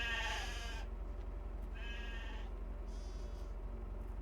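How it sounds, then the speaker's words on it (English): Sheep in the Farming Simulator 25 video game bleat three times in quick succession, each cry short and moderately loud over a steady low background hum. "You look like my sheep over in Farming Sim."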